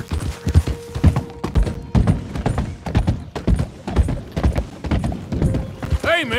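Steady clip-clop of horse hooves in Red Dead Redemption 2, a brisk rhythmic trot of close, loud hoofbeats with a brief whinny near the end.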